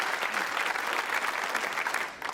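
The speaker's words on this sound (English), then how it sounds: "Give Tony a round of applause, everyone." Sustained applause fills a television quiz show studio as the audience claps for a contestant, thick and even, dipping slightly just before the end.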